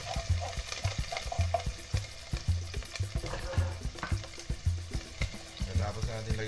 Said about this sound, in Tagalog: Sibuyas muna ang gigisa natin para hindi masunog yung maki.